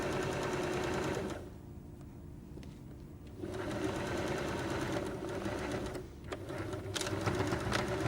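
A sewing machine stitches the end of a drawstring bag, running in steady close-up bursts, pausing briefly, then reversing to lock the seam back on itself before stitching on.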